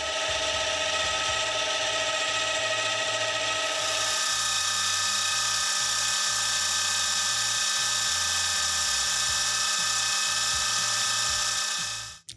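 A drill bit cuts a centre hole into metal stock spinning on a metal lathe, a steady close mechanical whir with a rattling gear drone underneath and a high whine that drops away partway through, running continuously until the spindle stops.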